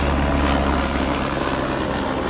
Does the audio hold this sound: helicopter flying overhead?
yes